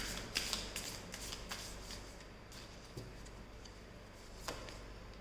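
Tarot cards are shuffled by hand in a quiet room, a soft riffling patter with a few sharper snaps of cards, close and faint, with no talking.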